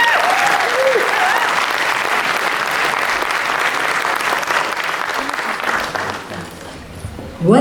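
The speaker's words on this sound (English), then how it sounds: "Give them a round of applause." Sustained audience applause at an SKA Mahotsav function, loud and dense, many hands clapping for several seconds before fading toward the end.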